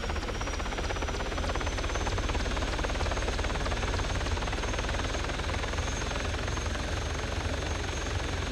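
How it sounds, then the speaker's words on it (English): A helicopter flies in a zombie survival video game, its rotor thudding in a loud, dense, continuous rapid chop that holds steady and close for the whole stretch, with no talking over it. "Someone just shot at my chopper."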